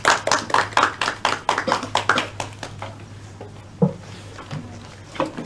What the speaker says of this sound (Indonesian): Kelompoknya ayo bisa tepuk tangan.